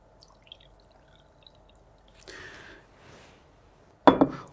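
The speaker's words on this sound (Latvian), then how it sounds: "Šeit man ir novārīts krāna ūdens, un es ieliešu to šādā 100 ml glāzītē." Boiled tap water poured into a small 100 ml glass: a faint watery pour with light drips, ending in a sharper clink and splash of liquid hitting glass, close and otherwise quiet.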